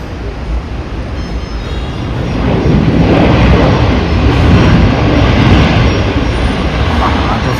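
A jet airliner landing at Chennai airport roars in a broad, loud rush that swells midway and holds steady, with people talking nearby.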